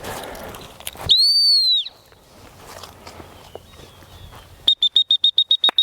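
A gun dog trainer blows a whistle during retriever training: one long falling blast, then a quick train of about ten short pips, with footsteps and outdoor rustle in between.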